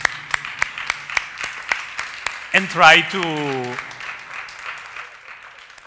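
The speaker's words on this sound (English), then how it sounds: "I want to give a big round of applause for the translator" Audience applause at a festival keynote, a run of scattered claps for the translator that swells briefly, then tapers off under a speaker's voice.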